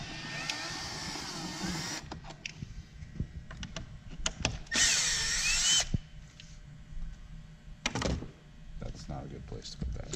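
A power tool whirs in short bursts while removing 8mm bolts on a Ford Focus ST, and a longer loud run comes midway, with clunks and handling noises in a garage and someone speaking between bursts.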